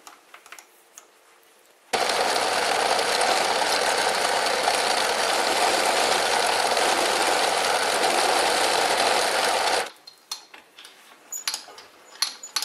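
Metal lathe running a thread-cutting pass on a part for adjustable faceplate jaws, a loud steady machine whir and cutting hiss lasting about eight seconds, framed by quieter clicks and handling sounds.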